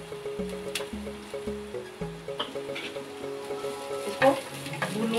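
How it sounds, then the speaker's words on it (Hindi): Finely chopped onions fry in hot oil for Maggi, a continuous bubbling sizzle with rhythmic stirring scrapes against the pan and a brief clatter near the end, heard up close without speech. "अब मैं इसमें प्याज, जिसे मैंने बारीक बारीक काट लिया था, वो ऐड कर रही हूँ। इसको भून लूंगी।"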